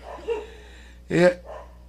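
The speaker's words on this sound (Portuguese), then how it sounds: "Cachorrada podia parar, né?" Dogs barking outdoors during a home talk, a faint yip early followed by one loud sharp bark and a softer trailing bark, nearby, with no talk over them.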